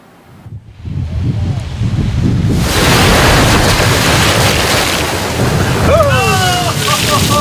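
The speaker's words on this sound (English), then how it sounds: "Waves pounding the Santa Barbara seawall have been a wake-up call for many residents" Ocean waves pound the Santa Barbara seawall in a loud, continuous broadband roar that rises after a quiet start and stays steady, with a brief voice-like tone near the end.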